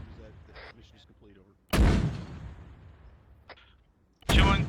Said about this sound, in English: We have counter battery fire going out time now on those mortars.